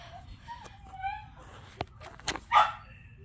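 A puppy lets out a few faint, high yips and whines and then one louder sharp bark near the end, over a low background hum.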